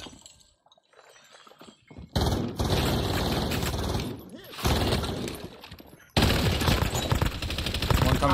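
Heavy gunfire in a multiplayer shooter video game, with loud sustained automatic bursts and breaking-glass crashes that start suddenly after a quiet opening, pause briefly, then return even louder.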